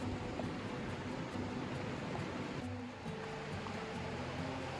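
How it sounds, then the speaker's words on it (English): A creek on the North Kaibab trail in the Grand Canyon gives a faint, steady broadband rush of water heard from a distance, with no break. "You can hear the water"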